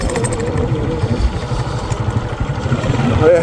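A Honda CG 125 motorcycle engine runs steadily while riding on a cold winter day, with a continuous low throbbing drone and wind rush under a nearby speaking voice.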